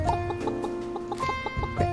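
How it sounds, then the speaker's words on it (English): Chickens in the farming video game Pumpkin Days cluck in short repeated bursts over a tonal game music backdrop, fairly close and continuous. "Let's cuddle the chickens."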